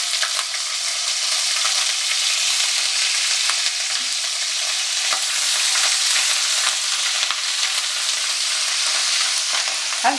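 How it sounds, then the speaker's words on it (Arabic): A big spoonful of garlic sizzles in the same pan that just fried kofta for kofta Dawood Basha, giving a steady, close, loud hiss with faint stirring scrapes and no voices. "في نفس الطاسه اللي حمرت فيها الكفته هنزل بمعلقه كبيره من الثوم"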